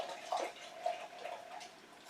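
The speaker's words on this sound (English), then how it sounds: "put it in a dark cup, put my vodka in there. I'm going to stir it up" Vodka poured into a dark cup over herbs for a valerian root tincture, a short close trickle of liquid with light sloshing and a faint ringing tone, no talking.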